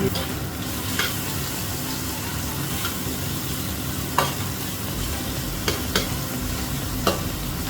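Julienne-cut carrots stir-fried in a pan for chicken sizzling, a steady close sizzle with occasional scraping clicks of a spatula stirring.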